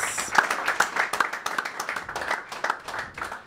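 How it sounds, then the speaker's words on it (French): A modest audience at a music and quiz launch event claps, the individual hand claps distinct and somewhat uneven, rising and falling in intensity over a few seconds with no talking. "on peut les applaudir"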